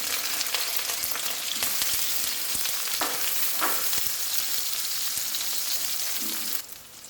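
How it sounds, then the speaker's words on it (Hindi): Finely chopped medium onion frying in hot oil, a loud continuous sizzle up close with occasional stirring scrapes, easing slightly near the end; no talk. "तो अब मैं इसमें ऐड करूँगी एक मीडियम साइज़ का प्याज, उसको मैंने बारीक बारीक काट लिया था।"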